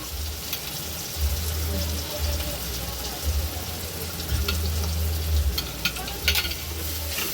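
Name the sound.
onion and tomato sizzling while being sautéed and stirred in a pan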